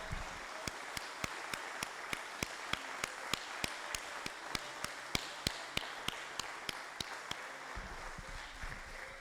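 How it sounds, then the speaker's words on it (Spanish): During a church service, sharp, evenly spaced claps ring out in a regular rhythm over a soft bed of scattered hand claps from the congregation, continuing for about seven seconds before fading out. "Le damos un aplauso al Señor."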